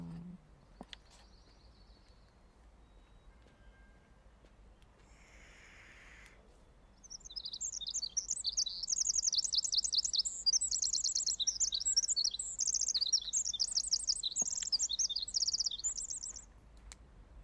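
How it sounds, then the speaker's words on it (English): A loud, dense chorus of small birds chirping rapidly and continuously close by, rising after a quieter stretch with only a few scattered tweets and a faint hum underneath. "Goddamn loud ass birds."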